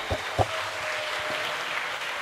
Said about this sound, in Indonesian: Beri tepuk tangan meriah